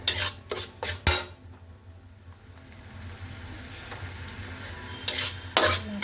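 Masala frying in oil in a pan and stirred with a metal utensil, with sharp clanking scrapes at the start and end over a steady, moderate background sizzle.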